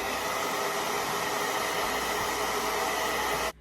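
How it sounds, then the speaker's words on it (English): A blow dryer on the cool setting blows as a loud, steady, close whoosh of air for several seconds, then cuts off abruptly at the end. "I'm gonna put my blow dryer on cool and let it get tacky a little bit."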